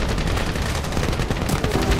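Rapid, dense machine-gun fire in the World War II shooter Medal of Honor rattles on continuously for two seconds, loud and close, with a steady run of overlapping shots.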